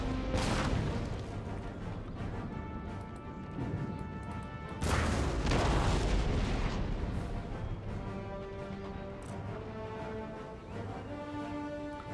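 Artillery fire in the Empire: Total War video game, set in the French and Indian War: repeated booming cannon blasts and crashing impacts over a constant battlefield din, with two heavier volleys standing out.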